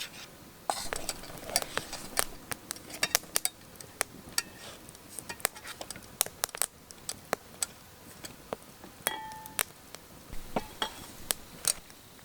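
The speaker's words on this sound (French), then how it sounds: "Mélanger un petit peu." Utensils click and scrape against a pot while a cook stirs an improvised dish, giving a steady run of light taps and clinks at close range.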